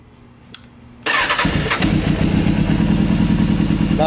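An old motorcycle engine cranks and catches after a quiet moment with a click, then settles into a loud, overly rumbly, uneven idle, close by.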